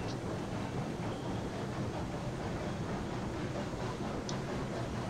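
A freight train running in the video game Railroads Online, a steady low rumble and rolling clatter, continuous and fairly loud with faint metallic clicks.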